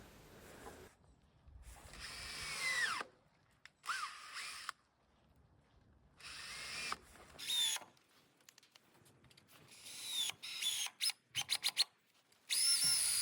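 Power drill driving screws into wood while building a temporary tent frame, heard as several separate whirring bursts of a few seconds each, with short quick pulses near the end, close and fairly loud between quiet gaps.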